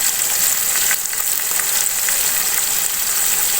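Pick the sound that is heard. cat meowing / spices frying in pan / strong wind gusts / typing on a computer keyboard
spices frying in pan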